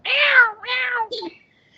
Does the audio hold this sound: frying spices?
no